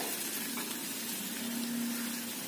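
Ginger pieces with garlic frying in a pan, a soft steady sizzle with faint crackle, fairly quiet and close, no voices.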